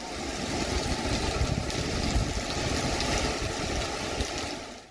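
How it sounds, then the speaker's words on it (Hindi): Heavy monsoon rain pours down in Himachal Pradesh near the Naina Devi–Bilaspur road, a dense, continuous roar of rainfall with no voices. "बारिश बहुत जोर से बारिश हो रही है"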